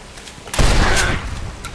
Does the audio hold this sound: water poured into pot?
no